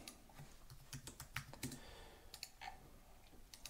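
Someone types on a computer keyboard to list clothing items for sale, a quiet run of irregular light clicks in short bursts and pauses.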